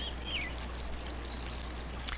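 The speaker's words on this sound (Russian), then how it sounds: "Тут больше звук воды." Gentle flowing water from a nature relaxation soundscape runs as a soft, continuous trickle at low level, with a faint bird call near the start and a steady low hum underneath.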